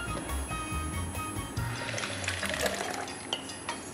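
Cream poured from a small jug into a granadilla panna cotta mixture in a home kitchen, a soft liquid trickle with faint clinks of dishes, close and steady over low kitchen noise.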